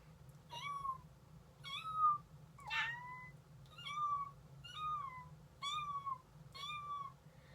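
A person imitates a small kitten's mew, a series of about seven short, high, rising-falling cries spaced roughly evenly, close and clear with a low steady hum underneath.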